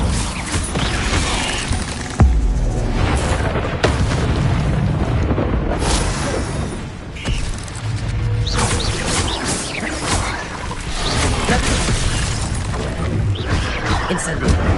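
A fire spell goes off in Hogwarts Legacy amid dense combat noise, with whooshing bursts and booming impacts layered over game music while a player shouts spell names throughout.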